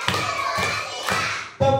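Children clap in unison during a counted classroom clapping game, four sharp group claps spaced about half a second apart, the last one loudest, with no talking over them.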